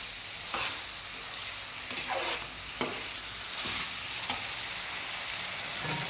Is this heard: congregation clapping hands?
no